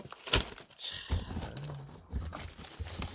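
A paper newspaper, a Busan Ilbo print edition, is unfolded and rustled close by in a few quick crackling bursts of crinkling paper over about three seconds.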